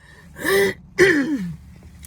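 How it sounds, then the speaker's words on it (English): Two harsh, throaty bursts close to the mic, a short pause between them, like someone coughing and clearing their throat. "Sorry, a little bit of a cough."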